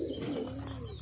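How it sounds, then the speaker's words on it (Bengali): Four pigeons perched together near a coconut tree give soft, low, throaty coos against a faint background hum and a thin high whine. "4টে পায়রা একই জায়গায় আছে বন্ধুরা"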